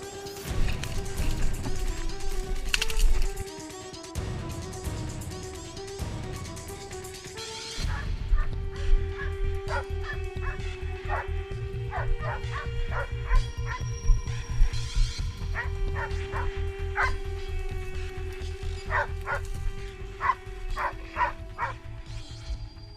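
Hunting dogs bark during a wild boar hunt in the countryside, with repeated yelps and barks coming in irregular bursts, some close and some farther off, over rustling and handling noise.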